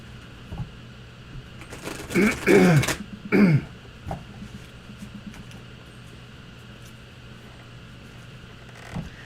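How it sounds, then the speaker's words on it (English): A person clears their throat twice in quick succession, harsh and close, amid faint background hum and small clicks. "I just basically need to keep clearing my throat until that stops"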